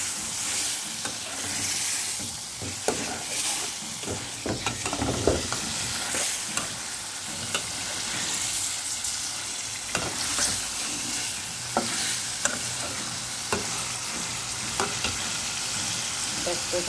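Free-range chicken and new potatoes cook in a pan under a loud, continuous sizzle, with repeated scraping and clattering of a spoon stirring throughout, and no talking.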